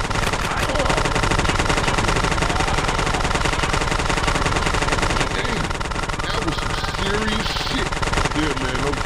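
Heavy gunfire from a drive-by shooting in GTA San Andreas, continuous loud rattling bursts mixed with game sound, with voices heard over the shooting.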